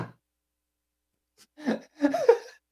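A human voice imitates a lizard coughing down in the grass, giving a couple of short, rough, throaty bursts after a pause, close and fairly loud.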